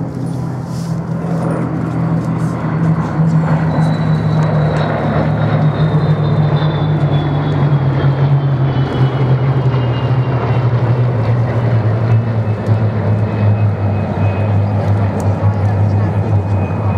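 A propeller warbird flies past at the Duxford Flying Legends airshow, its steady droning engine roar holding loud throughout with a slowly falling pitch as it passes, while a commentator talks over it.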